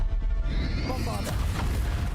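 Booming Bombarda spell explosion from the video game Hogwarts Legacy, a heavy low rumble with crackling debris layered over continuous game noise.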